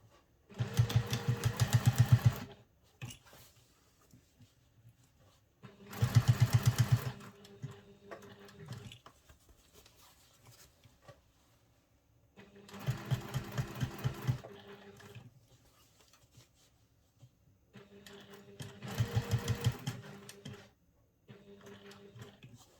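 A sewing machine stitches a travel satchel in four separate bursts of fast, rattling stitching, each a few seconds long and separated by quiet pauses, clear and close with no talk.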